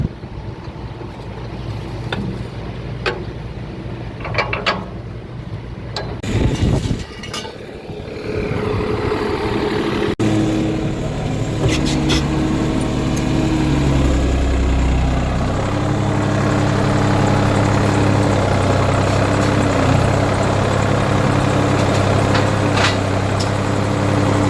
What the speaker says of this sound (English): We're gonna use this tractor, I guess.